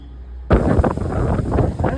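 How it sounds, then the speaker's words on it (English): Wind gusts rush into the microphone on a covered garden patio with a sudden buffeting roar, steady and loud, after a brief quieter moment, as a storm comes in. "it's getting dark and it's getting windy"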